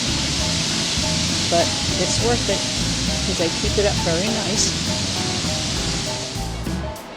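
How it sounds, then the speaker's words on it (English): DeSoto Falls at DeSoto State Park in Alabama roars as a steady, broad wash of falling water under light rain, with a person talking over it throughout. "We are at DeSoto Falls in Alabama."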